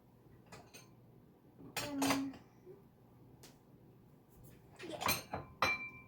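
Kitchen clatter while getting out a bowl to make a crustless quiche in a mini pie maker: a few sharp clinks and knocks of dishes and a cupboard, spaced apart in a quiet room.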